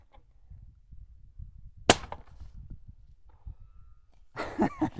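A single 8.6 Blackout rifle shot firing a heavy 300-grain subsonic bullet at a steel coyote target outdoors, one sharp crack followed by a faint ringing ricochet, then people begin talking.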